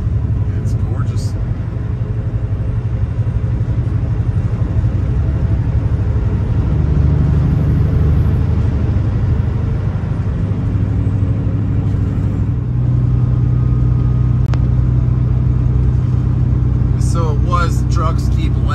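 Steady car road noise on a snowy highway near Knoxville, Tennessee, heading toward Kentucky at 29 degrees: a continuous low engine and tire rumble, loud and close, with a voice talking over it throughout.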